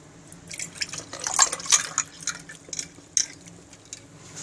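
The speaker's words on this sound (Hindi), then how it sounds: "अब हम इसे गिलास में सर्व करते हैं।" Jaggery sharbat with ice is poured into a glass, making a run of light splashes and drips with a few clinks that come in uneven bursts, close and fairly quiet.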